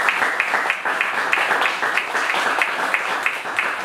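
Sustained applause from an audience at a 2014 French municipal election campaign meeting, dense and steady clapping filling the room at close range with a faint murmur of voices underneath.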